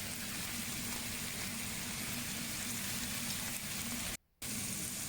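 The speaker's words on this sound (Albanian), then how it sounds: "fillojmë të fërgojmë qepen, karrotat, specat e bardha" Onions, carrots and white peppers frying in a pan for a vegetable lasagna: a steady, even sizzle with a soft hiss that stays constant, then breaks off for a moment before resuming, fairly faint, with no voices.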